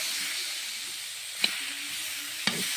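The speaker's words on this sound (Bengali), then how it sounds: "পটল আলু কড়াই দিয়ে দিই। আস্তে আস্তে নাড়াচাড়া করে পটল আলুটা সুন্দরভাবে হালকা ভেজে নেব।" Pointed gourd and potato pieces frying in a wok, giving an even hissing sizzle throughout with two brief sharp clinks of a spoon against the pan, close and unaccompanied by talk.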